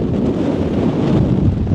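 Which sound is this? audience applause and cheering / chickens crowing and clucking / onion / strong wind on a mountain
strong wind on a mountain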